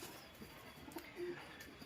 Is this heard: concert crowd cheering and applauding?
no